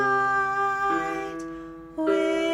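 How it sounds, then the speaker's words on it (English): Piano notes rise and fall in gentle broken chords, playing Brahms' Lullaby alone, soft with sustained tones. "instead of playing our chords in block chords, we can try playing them broken."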